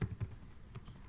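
Short bursts of typing on a computer keyboard during a Python tutorial, a few quick key clicks close to the microphone in a quiet room with no speech.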